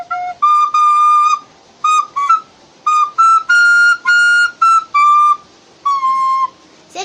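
A breathy recorder-like tone plays a series of short and sustained notes, mostly on one pitch with brief breaks between, clear and close with no talking.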